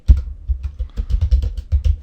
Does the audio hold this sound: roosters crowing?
no